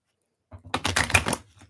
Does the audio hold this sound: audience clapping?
no